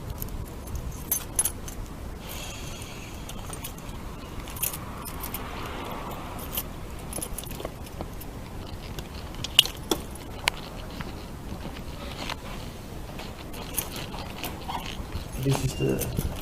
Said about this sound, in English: Just find my keys so we can get inside.